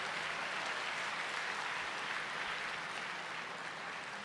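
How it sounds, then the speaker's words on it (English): Large lecture-hall audience giving a sustained round of applause for Dr. Zakir Naik after his lecture and Q&A, a dense, even wash of many hands clapping, moderately distant and unbroken. "a big round of applause to Dr."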